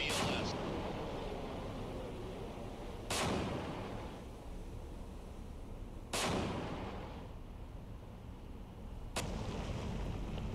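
Vertical-launch missiles fired one after another from an Arleigh Burke destroyer in the Cold Waters naval game, with three loud sharp launch blasts spaced about three seconds apart, each trailing into a roaring rush over a constant low rumble.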